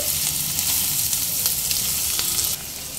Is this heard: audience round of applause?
no